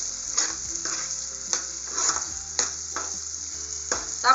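Ground mustard being stirred into a pan of green chili pickle, with a spoon scraping in repeated strokes about every half second over a steady sizzle, close and moderately loud, with no talking.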